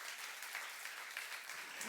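A church youth group at a sermon during a retreat applauds warmly, a continuous dense crackle of many hands clapping that is quiet and somewhat distant, lasting about two seconds.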